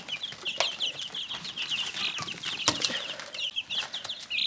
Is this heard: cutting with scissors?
no